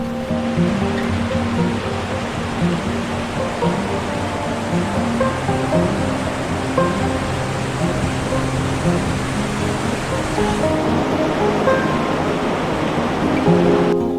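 A river rushes steadily beside the trail near Surke on the trekking route to Phakding toward Nepal's Gokyo Valley, a loud, unbroken wash of flowing water that never lets up.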